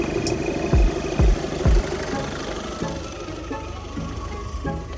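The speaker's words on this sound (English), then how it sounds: "Hear a bit of turbo again." A Ford Fiesta engine rumbles at a steady idle nearby, with three deep thumps early on and a faint whine from the turbo, heard alone.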